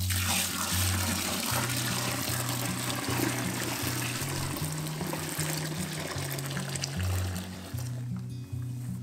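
Hot sparge water at 168 degrees poured from a pot into a home-brewing mash tun, a continuous splashing pour and trickle running for several seconds before tapering off, with a low steady hum underneath.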